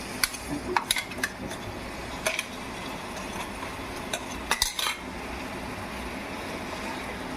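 Ground coconut paste is stirred with water inside a mixer jar for a Kerala chakka avil dish, giving scattered scraping clicks and light knocks of a spoon against the jar, close and moderately loud, with quieter stretches between.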